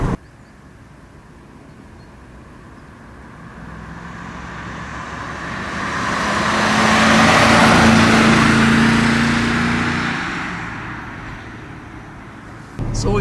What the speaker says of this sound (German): jetzt wo die Maschine ein bisschen warm gelaufen ist, kann ich sagen, dass der ganz seidenweich läuft